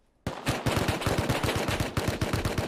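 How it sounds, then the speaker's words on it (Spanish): Python revolver fire in the Rust survival game, a loud burst of rapid shots beginning abruptly after near silence and continuing in quick succession. "Me dispara uno con Python"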